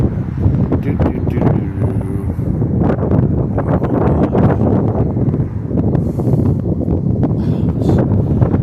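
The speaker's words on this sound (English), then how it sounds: "I hope this wind isn't messing up this video too bad." Strong wind buffets the microphone outdoors at a mausoleum in Hollywood, a loud, steady roaring rush with gusty flutters throughout and no speech.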